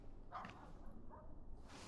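A large dog barks a couple of times at medium distance, short sharp yelps over a steady low background rumble.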